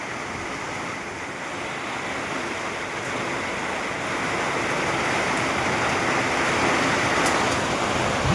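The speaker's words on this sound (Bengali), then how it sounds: "বিশাল হাওয়া দিচ্ছে" Strong wind during a hailstorm roars as a dense, continuous rush that builds slightly in force, loud and close, with no voices.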